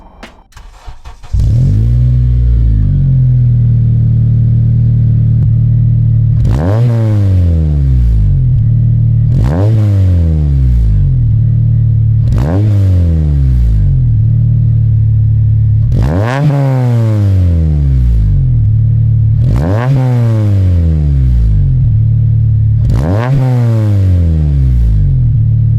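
An 8th-generation Honda Civic Si (FA5) with a Skunk2 exhaust starts up, then idles between six loud revs that rise sharply and fall back, spaced a few seconds apart, close to the car with no talking.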